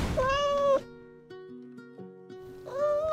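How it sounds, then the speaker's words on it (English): A domestic cat gives two drawn-out, tonal meows, one at the start and another rising near the end, with a quieter lower-pitched vocal murmur between them, all close and clear. "The second sound that cats are going to make is a meow."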